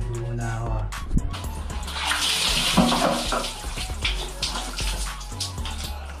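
Water pours steadily from a tap while someone takes a bath. The splashing and gushing continues throughout, with faint sounds in the background.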